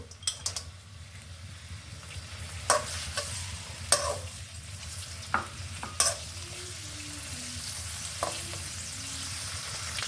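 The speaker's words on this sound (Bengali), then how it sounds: "এখানে তেল ঢেলে দিচ্ছি এখানে দিয়ে দিচ্ছি সেই শুটকি মাছ একটু ভেজে নেব" Dried fish (shutki) frying in oil in a pan gives a steady close sizzle, broken by a few sharp scrapes and clinks of a utensil against the pan.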